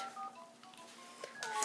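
A child's toy phone gives a quick run of electronic button beeps, faint and a little distant in a busy room with background noise.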